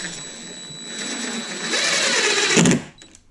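Power driver sinking deck screws into a plywood bunk bed front, a whirring motor that rises in pitch and loudness over about three seconds before cutting off abruptly.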